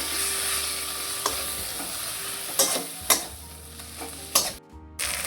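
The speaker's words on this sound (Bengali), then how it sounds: "গুঁড়ো মশলাটা যেহেতু দিয়েছি, দিয়ে একটু নাড়িয়ে চাড়িয়ে নেব।" Powdered spice masala with turmeric and a splash of water being stirred in a hot pan for a goat-fat curry with elephant-foot yam stalks: steady sizzling with several sharp scraping strokes of the spoon, close and alone.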